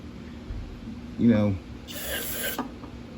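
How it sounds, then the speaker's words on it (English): A short hissing burst of carburetor cleaner spray into a Yard Machines engine intake, about half a second long, follows a brief rasping noise, close and fairly loud. "shoot a little bit of carb spray into down the throat."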